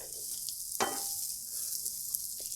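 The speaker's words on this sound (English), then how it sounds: "Put some oil down. Throw our onions down." Onions hiss and sizzle in oil on a Blackstone griddle set to medium-low heat, a steady close-up frying sound broken by one sharp metallic clack partway through.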